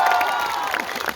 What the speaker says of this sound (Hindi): एक बार फिर से तालियां यार।